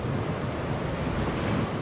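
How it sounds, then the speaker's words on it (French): Ocean waves churning behind a sailboat at sea in the South Pacific, a continuous loud roar of surf and rushing water with steady wind buffeting the microphone. "je vois des vagues au-dessus du bateau"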